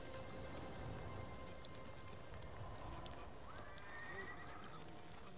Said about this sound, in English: I hear horses, but I do not see them.